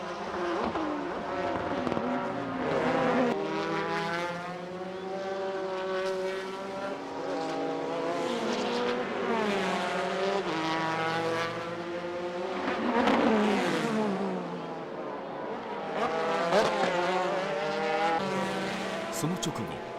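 GT race cars compete on track in the 2000 JGTC season: engines whine loudly and continuously as they pass and rev up and down, with excited commentary running over the engine noise.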